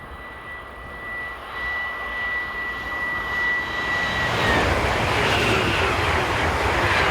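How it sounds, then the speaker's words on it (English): A Swiss Class 501 train unit out on test, rising from a faint distant rumble with a thin whine into a loud, broad roar as it passes close. "The second Swiss Class 501 unit out on test that day was 501001."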